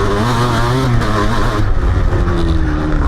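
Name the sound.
1994 KDX 200 motocross bike riding on the track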